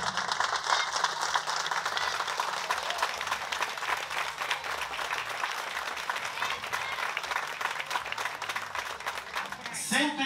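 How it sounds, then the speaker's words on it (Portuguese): Sustained applause from a gathered crowd at a Folia de Reis celebration honouring a Bom Jesus do Matozinho banner, steady dense clapping with rattling and voices throughout, ending with a brief louder burst. "Vamos receber com a salva de palmas"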